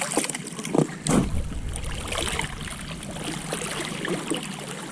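A paddle dips and pulls through calm water beside a sport catamaran drifting in a small canal at Baie-Mahault, with soft splashes and trickling, a couple of louder strokes early on.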